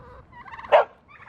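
Barnyard turkeys give a short, loud burst of gobbling among softer fowl calls, close by and with no talking.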